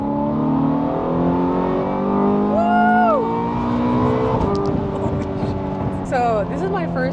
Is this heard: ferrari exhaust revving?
yes